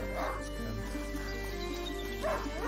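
A hunting dog barking in the game A Plague Tale, giving a couple of short, fairly distant barks about two seconds apart over a steady background hum.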